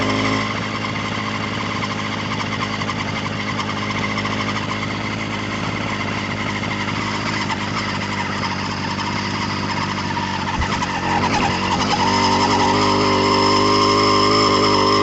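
A motorized bicycle's small engine runs steadily and loudly while climbing a hill on a night ride, a continuous buzzing drone with rising pitch toward the end, no voices.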